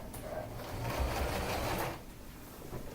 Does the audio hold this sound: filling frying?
no